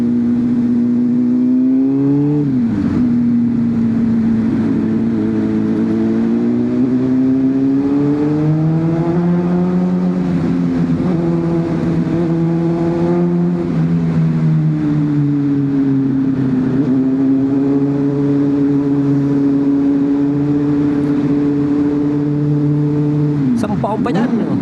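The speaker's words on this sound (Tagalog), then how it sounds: "dito masarap magpaingay ng motor mga kamoto" A Honda CBR600RR motorcycle revs inside the Ayala Tunnel, its engine note loud and close with a steady whine that climbs and falls through repeated revs, echoing off the tunnel walls throughout.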